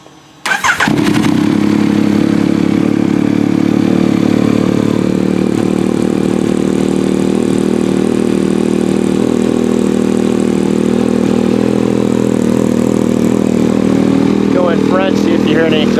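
A 2021 Yamaha MT-09 motorcycle fitted with a new full exhaust fires up after a brief moment of quiet, then settles into a steady, loud, close idle that holds for about fifteen seconds.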